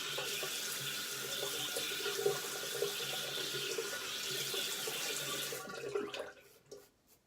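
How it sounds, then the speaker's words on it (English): A water tap runs in a steady splashing stream as someone rinses off after shaving, then it stops and a few drips and handling noises follow, fairly quiet. "Rinse off one more time."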